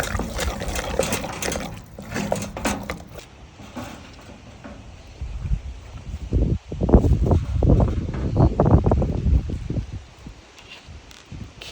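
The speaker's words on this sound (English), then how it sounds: "I'm just gonna stir that for a couple of minutes," A one-pot risotto stirred in a camping pot outdoors by a lake on a cold summer night, with a spoon scraping and sloshing through thick rice in steady, close bursts over a faint background hiss.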